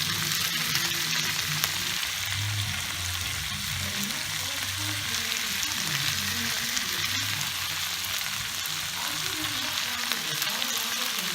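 Leeks sizzle in a frying pan for a beef stew, a steady loud frying hiss with crackling that carries on without letup, no talking over it.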